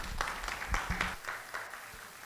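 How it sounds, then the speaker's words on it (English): A business conference audience claps, a patchy round of applause with separate hand claps standing out, moderately loud and fading slightly as it goes on. "Please let's give him another round of applause."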